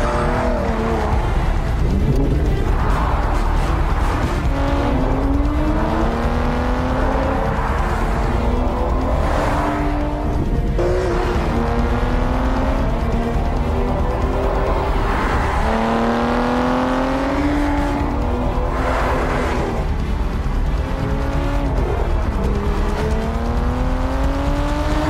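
A brand-new Aston Martin is driven hard, its engine roaring loud and continuous through repeated rising revs and gear changes, with occasional tire squeal.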